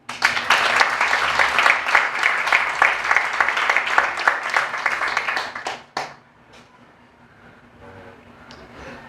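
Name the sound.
congregation applauding in church worship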